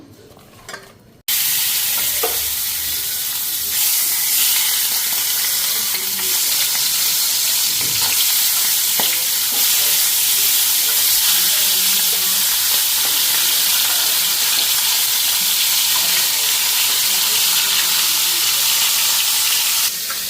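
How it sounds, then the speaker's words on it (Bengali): Fish heads fry in oil in a pan, with a loud, continuous sizzle that starts abruptly after a brief quieter moment and holds steady throughout, with occasional stirring clatter. "এখন মাছের মাথাগুলি ভাজা নিই।"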